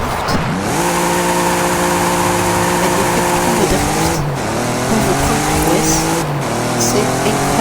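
A drift-tuned car slides through corners in Forza Horizon 5, its engine holding a loud, steady whine that shifts pitch as it revs up and down, with tire noise underneath and no one talking.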